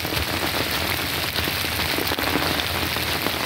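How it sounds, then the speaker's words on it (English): Dense, steady patter of rain drumming on an umbrella close by, a constant bright hiss with no speech. "that's the rain hitting the umbrella."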